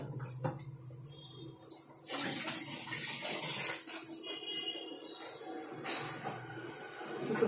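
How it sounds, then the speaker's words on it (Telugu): Water fills a working model dam with an automatic gate, a soft, continuous splashing and trickling that swells after the first couple of seconds and carries on steadily at close range. "ఇప్పుడు దీంట్లో వాటర్ మొత్తం ఫిల్ చేస్తున్నాము డ్యామ్ ఫుల్ అయ్యే వరకు."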